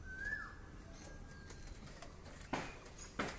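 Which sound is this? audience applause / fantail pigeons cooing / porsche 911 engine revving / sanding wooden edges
fantail pigeons cooing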